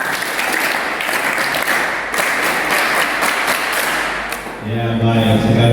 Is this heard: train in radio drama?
no